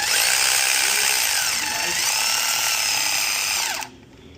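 Power tool spinning off a nut during alternator replacement on a 2010 BMW 528i, a loud close continuous high whir lasting nearly four seconds before cutting off sharply.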